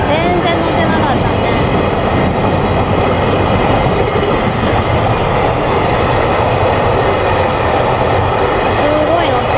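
A loud, continuous rumble of a heavily loaded container freight train rolling past a level crossing nearby, steady and dense for the whole span, with no talk.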